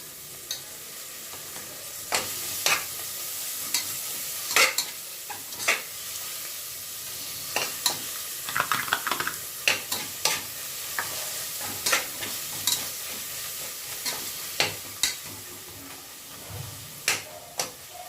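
Tomato frying in hot ghee with biryani masala for fried chicken biryani: a steady sizzle with frequent sharp clinks and scrapes of a spoon stirring the pan, no talking.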